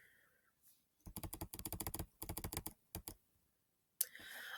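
Typing on a computer keyboard, rapid clusters of sharp close keystrokes in several quick runs with short pauses, ending in a single louder click, no talking.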